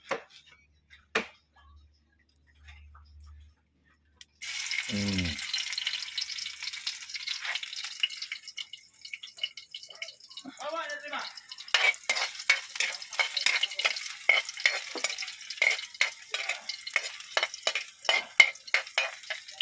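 Garlic hits hot oil in a home kitchen pan and sizzles steadily. A spatula stirs and scrapes with frequent clicks against the pan, and the frying grows busier toward the end.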